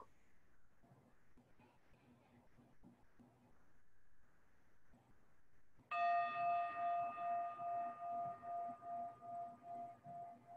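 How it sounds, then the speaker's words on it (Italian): A meditation bell is struck once after quiet talking and rings out clearly, its bright tone pulsing and slowly fading over several seconds. "Ora che sentiamo la campana, ascoltiamo ogni suo rintocco."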